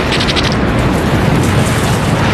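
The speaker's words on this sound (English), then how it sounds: "The force of the explosion shatters all the windows within a 3-block radius" A grenade blast rumbles as a dense, loud, sustained roar of explosion noise, broad and unbroken across the whole stretch with no voices.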